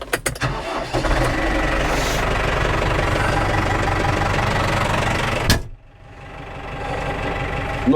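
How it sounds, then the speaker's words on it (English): A cold lawn mower engine cranks with a few sharp turns, catches, and settles into a loud, steady running drone. It briefly dips and stumbles before picking back up. "So it is a cold engine, but we won't put it under too much stress."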